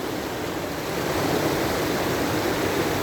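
Water flowing over and around rocks in a stream near a waterfall: a steady, close, broadband rushing and gurgling wash that continues evenly throughout.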